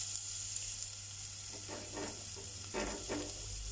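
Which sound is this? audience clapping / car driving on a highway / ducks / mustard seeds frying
mustard seeds frying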